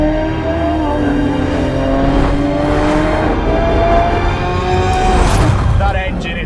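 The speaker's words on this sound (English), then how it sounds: "That engine is a force of nature." A Lamborghini Aventador SVJ with a naturally aspirated V12 drones loudly and steadily, its engine pitch rising and falling as it revs, with a brief tyre squeal near the end.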